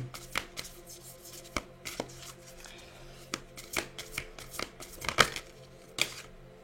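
Tarot cards being shuffled close by, a run of crisp riffling and slapping bursts with short pauses between them, no voices.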